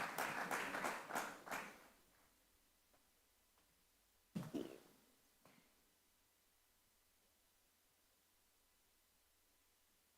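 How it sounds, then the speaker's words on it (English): Audience applause at a conference breaks out and fades within about two seconds, followed later by a brief second burst of clapping and then near silence. "A round of applause for her."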